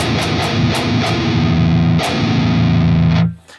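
An electric guitar plays through a heavily distorted amp tone with effects, giving a loud, dense, saturated sound. A run of quick palm-muted chugs ends in a sustained chord that cuts off abruptly.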